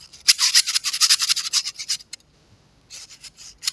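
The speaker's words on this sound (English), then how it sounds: "I'm playing with a fidget toy that I got from a Gachapon machine." Rapid scratchy clicking and rubbing up close from a small gachapon fidget toy, a busy rhythmic rattle that pauses briefly, then resumes more softly.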